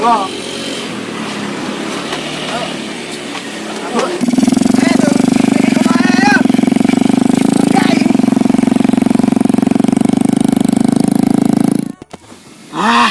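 A motorcycle engine starts and idles with a steady, loud drone, while people talk nearby over the running motor.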